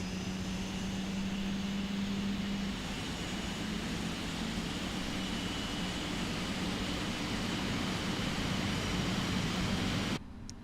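A Boeing 777 jet engine in the PMDG flight simulator spools up as a steady, dense broadband roar with a low tonal hum, holding at a constant level for about ten seconds before dropping off abruptly.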